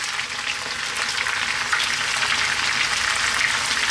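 Onion frying in a pan for a chicken potato curry, an even, bright hiss of sizzling that swells slightly as the onion goes in, close and steady with no talking.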